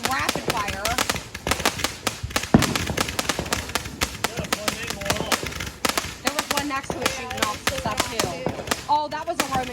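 Rapid-fire fireworks shooting up at random, a dense string of loud cracking pops and bangs close by, with people talking and exclaiming over the blasts.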